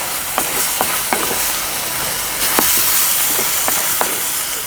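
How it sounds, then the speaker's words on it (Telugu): Cucumber pieces with turmeric, salt and tamarind frying in a pan for an Andhra meal: a steady loud hiss and sizzle with light scraping clicks of stirring spaced throughout, no voices. "దోసకాయ ముక్కలు, రుచికి సరిపడా ఉప్పు ఇవన్నీ వేసుకుని బాగా వేయించుకుందామండి"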